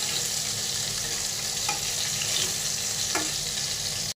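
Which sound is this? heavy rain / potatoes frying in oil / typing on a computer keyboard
potatoes frying in oil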